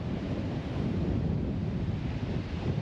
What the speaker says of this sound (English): The wind just starting to build up a little bit